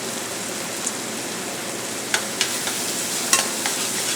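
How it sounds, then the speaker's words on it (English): Onions frying in bacon fat in a pan give a steady, even sizzle throughout, broken by a few sharp clicks and scrapes of stirring toward the end, with no talking. "So I'm adding the onions to the bacon."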